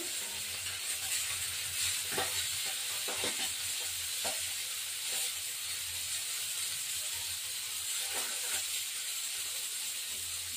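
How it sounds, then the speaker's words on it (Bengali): A fish head fries in hot oil in a home kitchen, producing a steady broadband sizzle throughout with a few brief crackles and stirring clicks, close and moderately loud, with no talk. "এবার মাছের মাথাটা কিছু ভাজা হয়ে গেলে"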